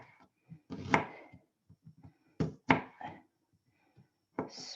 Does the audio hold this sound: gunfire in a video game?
no